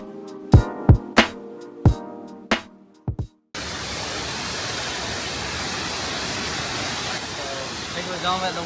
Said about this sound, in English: I think we're done at the waterfall. But I could stay here for hours.